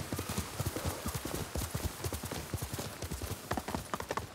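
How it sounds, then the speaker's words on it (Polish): Horse hooves clip-clop in a steady trotting rhythm in the game Ghost of Tsushima, close and clear, with a brief whinny-like snort amid ambient game sound. "Dobry z ciebie koń, panie."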